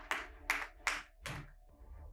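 Four crisp, evenly spaced hand claps ring out close and clear as a poet is welcomed at a Hindi poetry gathering, then they trail off into quiet.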